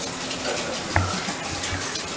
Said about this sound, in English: Let's wash the dishes.